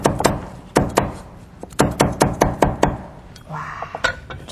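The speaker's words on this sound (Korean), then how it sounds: "파는 이렇게 가운데 한번 갈라주셔갖고 그냥 이렇게 옆으로 썰으시면 돼요" Knife chopping green onion on a wooden cutting board for jjamppong, a quick run of sharp knocks in bursts, close and loud, with faint voices near the end.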